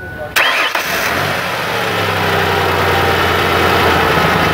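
A car engine cranks and catches, then settles into a loud, steady idle close by during an exhaust restriction test with a new front head pipe, while someone talks over it.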